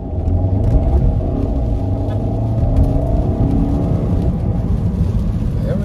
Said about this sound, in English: So there's our little drive in our Beetle convertible.